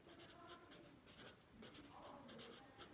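Faint, intermittent scratching strokes of writing on a board in a classroom, short bursts of marker or chalk sounds repeating every fraction of a second, quiet and alone.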